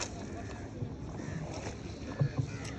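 A boat glides on Phewa Lake with soft water lapping and wind brushing the microphone, a faint steady background with a couple of brief knocks near the end.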